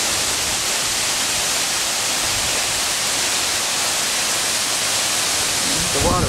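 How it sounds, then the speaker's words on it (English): Steady, loud rushing roar of falling water fills the whole stretch, broadband and constant, with a brief faint voice-like sound near the end. "The waterfall."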